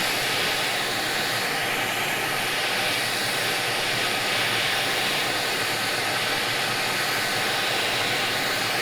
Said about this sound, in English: coming in with our heat gun, warming the actual port